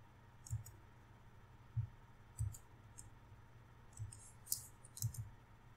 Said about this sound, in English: Let's type in the next command now.